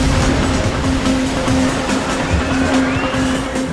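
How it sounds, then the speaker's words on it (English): Giant tsunami ocean waves crashing with a loud, continuous roaring surge of water, steady and close, with no speech. "Giant waves with immense power."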